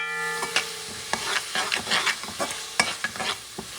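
Sofrito with tomato frying in a pan while a spoon stirs it, a run of close scraping strokes over a soft bubbling sizzle, with a faint steady tone at first.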